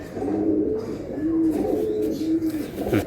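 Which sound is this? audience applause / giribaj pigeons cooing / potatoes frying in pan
giribaj pigeons cooing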